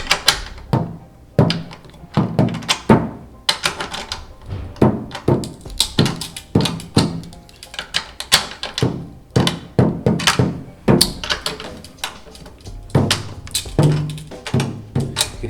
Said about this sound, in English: You can hear the head cracking there a little bit